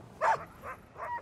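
Husky sled dogs at a North Pole ice base give a few close, sharp barks and yips, one loud bark followed by two softer whining yelps.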